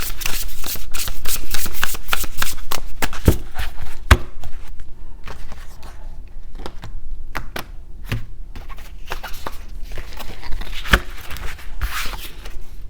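Tarot cards are shuffled by hand at close range, a run of quick riffling slaps and soft flutters in irregular bursts with no talking.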